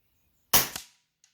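A single sharp shot from an Avenger .25 bullpup air rifle fired at a target 100 yards away, loud and close, with a short tail and a faint distant tick about half a second later.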